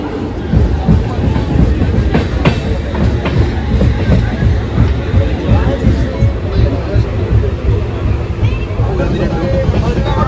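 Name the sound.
passenger train running on the rails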